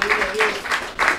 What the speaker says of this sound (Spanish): Regálele palmas al Señor